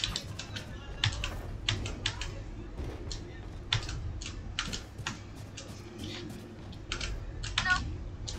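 Rapid, uneven clacking of a computer keyboard during a Valorant match, crisp keystrokes in quick bursts over a low background hum, with no clear voices.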